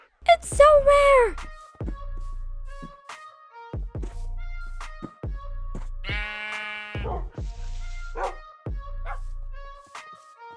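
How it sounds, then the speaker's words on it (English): Minecraft sheep bleats appear amid a busy game soundtrack, with several short, sharp animal calls punctuating the clip and one longer sustained cry in the middle; a person speaks early on. "Look, I found a pink sheep!"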